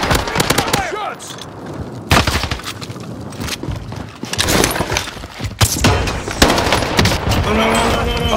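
Automatic gunfire bursts and explosive booms from a Call of Duty: Modern Warfare match, loud and repeated across the clip, with in-game voices and chatter mixed in.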